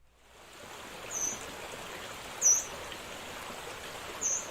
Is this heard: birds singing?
yes